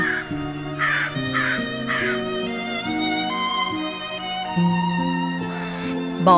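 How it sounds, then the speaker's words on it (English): A crow caws four times in a steady rhythm, loud and close, over a continuous backing music track. "Crow."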